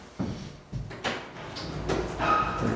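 A heavy metal prison door at the old Missouri State Penitentiary, opened by push button, shifts and slides with a series of clunks and a grinding rumble, then keeps rolling steadily along its track.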